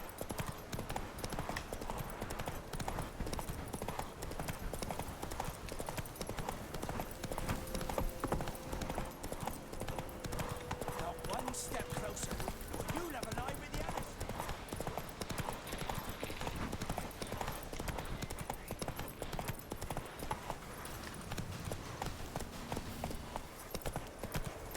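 The horse Roach clip-clopping in The Witcher 3 video game: a faint, continuous patter of hoofbeats under game ambience and music, with brief tonal effects partway through.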